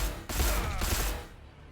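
Burst of rapid weapon fire from a Warhammer 40,000: Gladius strategy game battle against Space Marines, a loud dense fusillade with a few sharp volleys that fades out.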